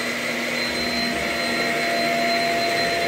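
A Shark Rocket self-cleaning vacuum cleaner runs with a loud, steady whine and airy rush that holds unchanged throughout, alone with no voices.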